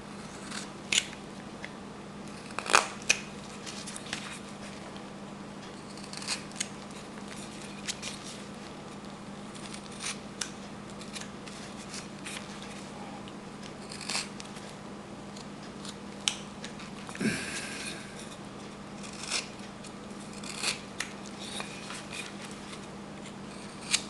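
A knife whittles a wooden sea hand carving, cutting at the nose: quiet, scattered sharp snicks and scrapes of the blade shaving wood, spaced irregularly over a low steady background hum.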